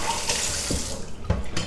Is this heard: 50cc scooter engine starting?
no